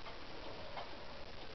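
Antique owl cuckoo clock with all-original carved wooden case, birds and owls, and original bellows, ticking faintly and steadily in a quiet room, with no talk.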